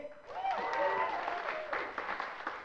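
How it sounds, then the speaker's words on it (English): An audience at an arts awards evening bursts into loud applause mixed with cheers and whoops. The clapping swells quickly and carries on dense and full throughout. "Come on, give us a cheer."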